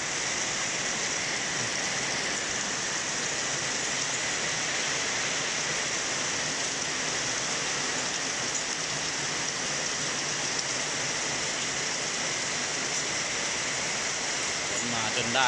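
A storm's downpour over Loei province, Thailand, keeps up a steady, thick roar of rain on surfaces, unchanging in strength for the full duration.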